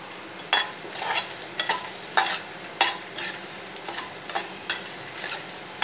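Cumin seeds dry roasting with salt in a pan for chutney, rattling and scraping in repeated stirring strokes about every half second, each a short rustling burst over a quiet background, with no voices.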